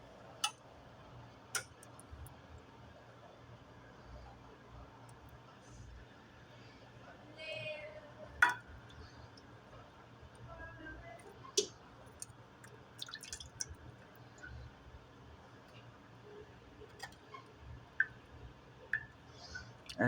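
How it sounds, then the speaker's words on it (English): Water is emptied from a tray of stuffed peppers in a kitchen, giving scattered drips and small ticking splashes over a quiet background, with a brief trickle near the middle. "Emptying the water again."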